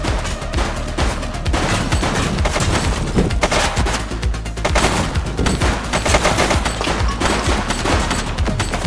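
Rapid video game gunfire in Precinct, a police shooter, rattles on as dense, loud bursts of shots and machine-gun fire over the full length, with repeated sharp cracks and no talking.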